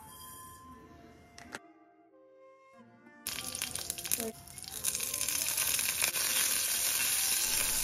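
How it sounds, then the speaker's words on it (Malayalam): Mustard seeds, curry leaves and dried red chillies hit hot oil, giving a loud, steady crackling sizzle with spitting pops that starts abruptly partway through and continues to the end. "ഇതാ കടുക് ഇട്ട് കൊടുത്തിന്, പിന്നെ കറിവേപ്പിലയും വറ്റൽമുളകും കൂടി ഇട്ടിട്ട് ഒന്ന് മൂത്ത് വരുമ്പോൾ"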